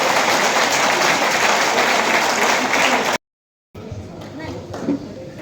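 Audience applause welcoming a guest at a Vijay Diwas commemoration held by an ex-servicemen's council in Bulandshahr: loud, dense clapping for about three seconds, an abrupt cut to silence, then a quieter room with voices.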